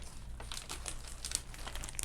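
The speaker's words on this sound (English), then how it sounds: "I got plastic bags flying around" Plastic shopping bags being handled during a yard sale haul unpacking, giving a steady close crinkling and rustling with sharper crackles throughout, alone with no talk.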